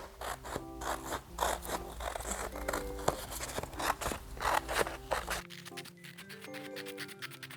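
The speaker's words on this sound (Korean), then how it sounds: "나비 모양을 오려주세요" Scissors snip through colored paper to cut out a butterfly shape, making a run of quick, crisp cuts and rustles close by over steady background music.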